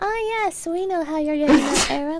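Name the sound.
sneeze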